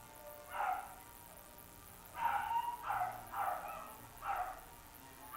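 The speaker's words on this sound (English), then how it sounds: "Absolutely noisy dogs." Dogs bark somewhere outside, faint and muffled, about five separate barks spaced irregularly against a quiet room background.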